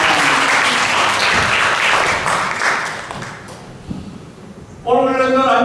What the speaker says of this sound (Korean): 우리 자매를 위하여 우리 박수로 한번 축복하고 격려하도록